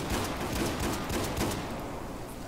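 Rapid gunfire from a semi-pump shotgun in Battlefield 4, a dense, sustained burst of shots with a steady roar and no pauses, loud and close throughout.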